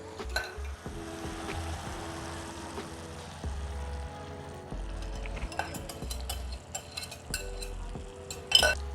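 Eggs go into a pan and fry with a low, steady sizzle, while a utensil stirs and clinks against the pan in irregular taps and scrapes, quiet and close.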